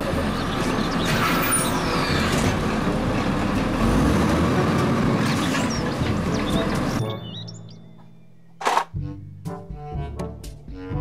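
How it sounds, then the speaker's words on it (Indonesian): A heavy garbage truck rumbles nearby with steady engine noise and mechanical clatter for several seconds, then cuts off suddenly. "Mobil truk sampah."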